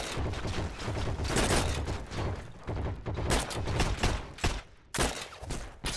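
Dense gunfire crackles from all directions in the World War II shooter game Heroes & Generals, with rapid overlapping shots and bursts, loud and nearly continuous throughout.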